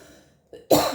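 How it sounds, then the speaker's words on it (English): A single short cough bursts out near the end after a faint murmur and a brief throat sound, close and fairly loud. "Yeah, that cough sort of confirms it."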